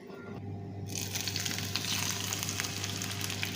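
A tempering of dried red chillies and curry leaves is poured into beetroot pachadi, and a loud, close sizzle bursts in and keeps hissing steadily to the end.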